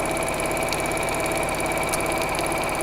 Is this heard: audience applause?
no